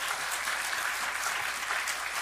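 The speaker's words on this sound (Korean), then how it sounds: "박수 한번 크게 쳐주세요." A church congregation claps loudly and steadily at an evangelism festival service, a dense wash of hands with no break.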